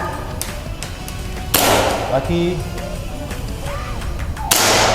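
Two loud, sharp gunshots ring out several seconds apart during shooting practice at a tactical shooting range in Surabaya, each a sudden blast with a brief decay, over faint background noise.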